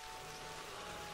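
Rain falls in the hunting video game theHunter: Call of the Wild, a soft, steady patter and hiss that stays constant and faint throughout.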